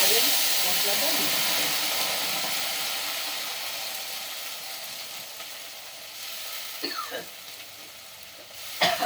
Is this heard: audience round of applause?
no